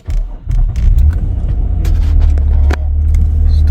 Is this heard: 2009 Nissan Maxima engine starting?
yes